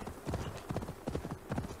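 A horse's hooves clip-clop in the video game Assassin's Creed Valhalla, a steady trotting rhythm of close, clear hoofbeats in repeated groups.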